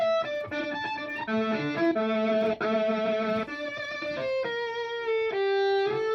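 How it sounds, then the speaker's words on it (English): Electric violin runs through a distortion pedal and plays a melodic line of sustained, buzzing, harmonically rich notes that shift in pitch, close and prominent, in a Latin house production context. "I run these violins through a pedal, a distortion pedal."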